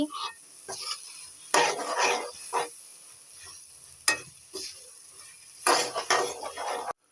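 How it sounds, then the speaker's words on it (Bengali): Spices and peas are stir-fried together in a pan for chotpoti, with irregular scrapes and clinks of a metal spatula against the pan and a soft sizzle underneath, close and fairly loud. "মটরের সাথে মশলাগুলা সুন্দরভাবে কষাতে হবে। আমি এখন কষাচ্ছি।"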